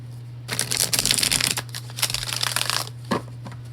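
Tarot cards are shuffled up close in two bursts of rapid, papery riffling and flicking, separated by a short pause and ending with a final soft tap, over a steady low hum.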